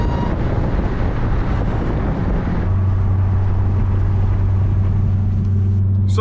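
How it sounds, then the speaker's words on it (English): Loud, steady intake roar from a 1000HP Dodge Durango Hellcat under acceleration, a broadband rush that shifts into a deep droning tone partway through, with no talk over it. "it is obnoxiously loud when it comes to the intake"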